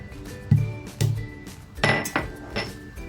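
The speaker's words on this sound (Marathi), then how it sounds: "ते जायफळ तोडून घेते आहे" Nutmeg is broken up for masala chai spice in a few separate hard knocks and cracks, each with a short clinking ring, close by and spaced about half a second apart.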